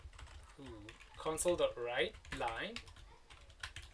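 Code is typed on a computer keyboard, a light patter of clicks running beneath someone speaking.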